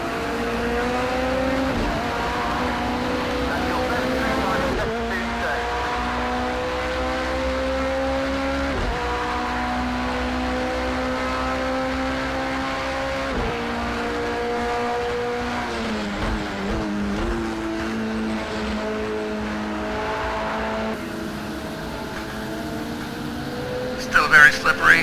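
A race car in Project Cars 2 laps the damp Autodromo Nazionale di Monza, its engine droning loudly and steadily, revving up through the gears with pitch climbing and dropping at shifts, and a voice talking over it.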